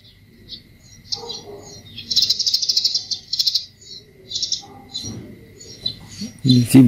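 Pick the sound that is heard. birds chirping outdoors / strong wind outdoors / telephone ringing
birds chirping outdoors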